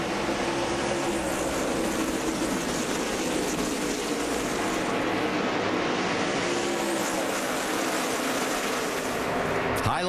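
A pack of NASCAR Nationwide Series stock cars roars past at the 2009 race start at Nashville, a loud, sustained engine roar filling the whole stretch with crowd and track noise.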